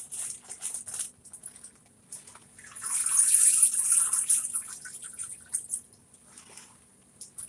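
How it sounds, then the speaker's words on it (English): Dry split peas are poured into a container, a soft rushing, rattling patter that swells for a few seconds in the middle and then tapers off, with quieter handling noises around it. "Okay, I'm pouring my lentils in."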